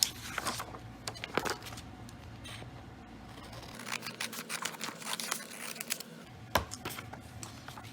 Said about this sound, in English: you're going to take your table of contents packet, okay, and you're going to cut it down the middle